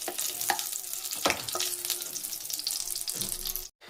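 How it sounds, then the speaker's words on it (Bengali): Bori lentil dumplings fry in hot oil with bay leaves and dried chillies, giving a steady crackling sizzle with a few sharp utensil scrapes and a brief drop to silence near the end. "প্রথমে বড়িগুলোকে দিয়ে দিচ্ছি তেজপাতা আর দুটো শুকনো লঙ্কা"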